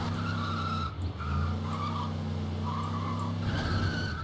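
A car in Scarface: The World is Yours drives with a steady engine drone while its tires skid and squeal in long smeared strokes, with no talk over it.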